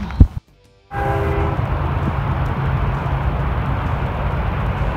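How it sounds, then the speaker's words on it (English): A short train horn blast sounds, then loud rumbling train noise fills the rest steadily, with no talking. "The guy in the train just honked and waved at me."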